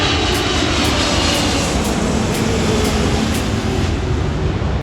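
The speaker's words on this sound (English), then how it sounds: "I spent a day plane spotting at the world-famous In-N-Out Burger next to LAX" Jet airliners pass close overhead near LAX airport, a loud, steady engine roar with broadband rumble that fills the whole stretch without letup, no voices.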